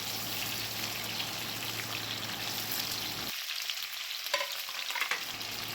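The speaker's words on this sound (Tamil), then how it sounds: "இந்த ஆயில் சூடானதுக்கப்புறமா இப்போ நம்ம நறுக்கி வச்சுருந்த பெரிய வெங்காயத்தை இதில் ஆட் பண்ணிப்போம்" Chopped onions and green chillies fry in hot oil in a kadai, giving a steady soft sizzle that drops away partway, followed by light stirring clinks and scrapes, close and fairly quiet.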